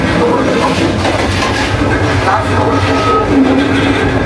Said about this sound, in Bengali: সীমান্ত এক্সপ্রেস 45 মিনিট লেটে চলছে আন্তনগর সীমান্ত এক্সপ্রেস।